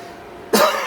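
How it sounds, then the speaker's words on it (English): A single sharp cough from someone unwell with covid, sudden and fairly loud after a quiet moment, trailing off briefly. "there's a little bit of a cough."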